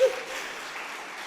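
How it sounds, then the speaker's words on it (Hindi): Audience applause at a live yoga session, a soft, fairly distant round of clapping that carries on evenly after a brief initial voice. "आपने तो ताली बजाई"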